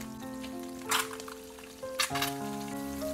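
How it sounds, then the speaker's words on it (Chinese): Eggs frying in a pan: a soft, continuous sizzle with two brief louder crackling bursts as the pan is shaken, under sustained background music, with no speech. "这样鸡蛋才会煎得比较均匀"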